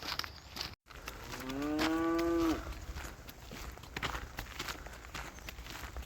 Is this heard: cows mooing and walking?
yes